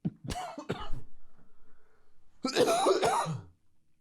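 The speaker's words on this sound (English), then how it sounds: "I'm going to try my best not to cough and sneeze and booger and goober in your ear." A burst of coughing at the start, two or three harsh coughs close together, then after a quiet pause a longer rough coughing fit, close and loud.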